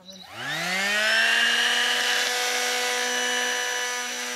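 A power tool trims a goat's hooves at a vet clinic, spinning up with a rising whine and then holding a steady, fairly loud tonal buzz close by.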